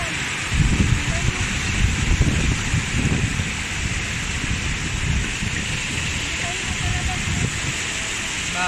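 Heavy rain pours steadily during a flood at Stanley Beach, a dense continuous hiss with low rumbling gusts, loud and close throughout without any voice.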